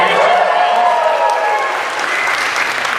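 An audience at a college gathering bursts into sustained applause, dense clapping filling the room with a few scattered whoops and voices mixed in, loud and close throughout.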